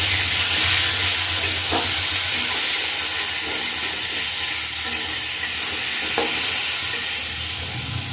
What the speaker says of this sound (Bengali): 4 পিস টমেটো দিয়ে দেবো, লবণ দিয়ে দেবো, দিয়ে ভালো রকম করে আমি নাড়িয়ে দেবো